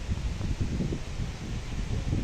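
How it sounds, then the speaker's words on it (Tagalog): Strong wind buffets the microphone outdoors by a swollen river in the Philippines, a steady low rumble and roar that lasts the whole time with no voices. "Lakas ng hangin no."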